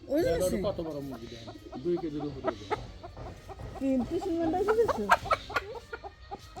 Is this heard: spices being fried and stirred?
no